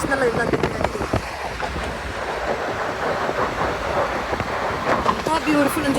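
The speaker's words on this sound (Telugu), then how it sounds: "అండ్ ఇది ట్రైన్, రియల్ది ట్రైనే కదా అది" A passing train in Kingston, a rumbling, rattling wash with some screeching tones and wind buffeting the microphone, continuous throughout and fairly close, with voices in the background.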